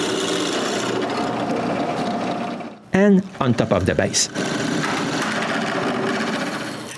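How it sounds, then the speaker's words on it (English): A drill press bores leg holes into the bottom of a wooden nutcracker body, making a steady, loud rasping grind. It breaks off briefly midway while someone speaks, then resumes. "Since I'm at the drill press, I drill the holes for the legs at the bottom of the body"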